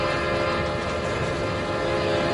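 A train rumbles through a video game deathmatch map, a loud, steady, dense roar with horn-like tones held throughout, and no voices.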